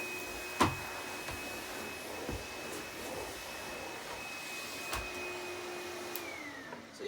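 A Numatic Henry cordless HVB160-2 vacuum cleaner runs with a steady motor whine and airy rushing hum, close and moderately loud, with a few light knocks and bumps as it moves, and the whine drops in pitch near the end.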